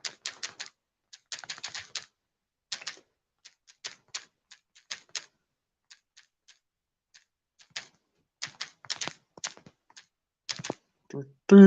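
Bursts of clicky computer keyboard typing come in quick irregular runs separated by pauses, close and fairly quiet, with a brief louder knock at the very end.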